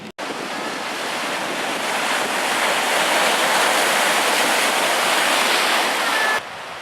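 Ocean waves break on the Northern Ireland coast as a steady, loud wash of surf mixed with wind buffeting the microphone, continuous throughout.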